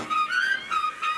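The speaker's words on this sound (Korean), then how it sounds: "휘파람을 입으로" A person whistles a short tune with the mouth, a few bright wavering notes heard clearly and alone during a dance challenge.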